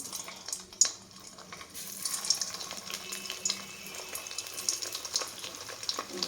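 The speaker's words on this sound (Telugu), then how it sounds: "ఇప్పుడు ఈ బాల్ని దీంట్లో వేసేసుకొని వేయించుకుందాము" Veg Manchurian balls deep-fry in hot oil, giving a soft continuous sizzle and hiss with scattered faint crackles and pops, fairly quiet and steady, with no voices.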